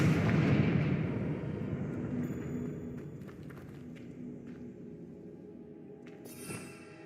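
A Confringo fire spell goes off in Hogwarts Legacy: a loud, deep booming blast at the start that rumbles and slowly fades over several seconds, followed by faint scattered crackles and a brief hiss near the end.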